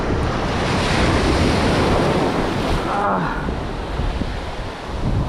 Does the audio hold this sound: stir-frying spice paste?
no